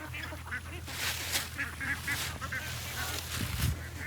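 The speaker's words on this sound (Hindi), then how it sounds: "हमारे पास जो बतखें हैं वो तरह अभी घूम फिर रही हैं इधर" Free-range farm ducks give a run of honking quacks at close range, fairly faint against background noise, with a louder burst near the end.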